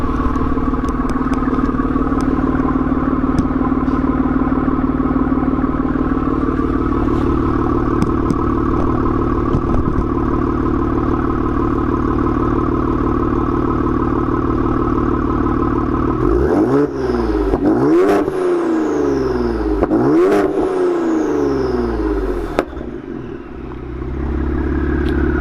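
Ford Explorer ST fitted with a stage 5 turbo idles steadily, then gets several sharp throttle blips in a row, each rev rising and dropping back, recorded close with no talking.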